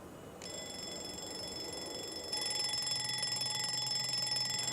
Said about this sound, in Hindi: ये अलार्म की आवाज कैसे बदल गई?